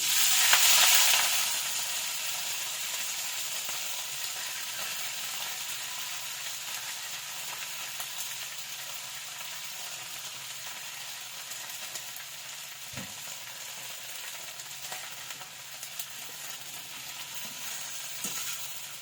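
Moringa leaves dropped into hot oil, a loud burst of sizzling at first that settles into a steady, continuous crackling fry, close and alone with no talk.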